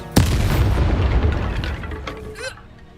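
In Hogwarts Legacy, a Bombarda spell goes off with one sharp, loud boom followed by a rumbling decay and faint debris, then a brief magical whoosh near the end.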